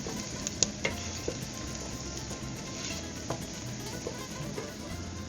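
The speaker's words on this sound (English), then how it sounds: "I'm going to give that a stir and just let those all come together" Ginger and spices are stirred in a pot over a quiet, continuous sizzle, with a few light clicks of a utensil against the metal.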